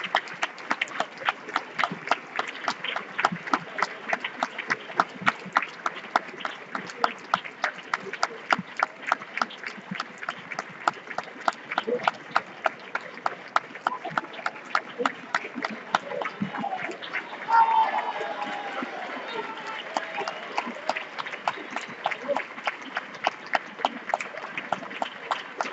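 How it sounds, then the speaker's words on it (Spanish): Audience applause at a homage for percussionist Agustín Montes, honoured for 50 years with a municipal music band, a sustained crowd clapping in steady rhythmic unison for the whole stretch. "Fuerte aplauso, por favor."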